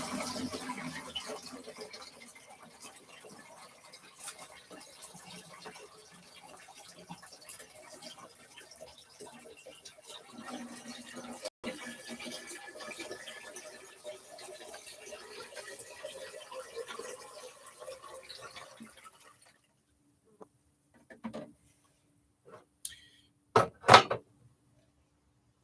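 Water is poured from a tap to fill a gallon container, a long, even splashing flow that runs for about twenty seconds. Then it stops, and a few knocks and clatters follow in a quiet room.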